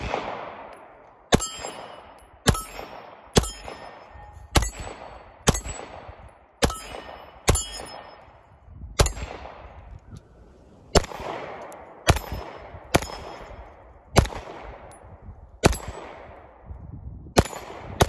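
A series of sharp gunshots, each followed by a ringing metallic clang of Viking Solutions steel gong targets, spaced irregularly about a second or two apart.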